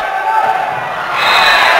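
A home crowd of volleyball fans cheers and roars at a senior day match, the broad wash of voices swelling louder toward the end.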